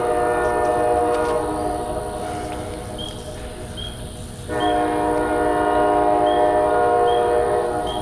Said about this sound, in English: I guess there's a train nearby.